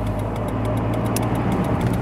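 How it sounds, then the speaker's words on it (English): A car drives around a military base, its engine and road rumble forming a steady, loud low drone from inside the cabin, with faint regular ticking above and no talk. "So right now we're just driving around at Shape."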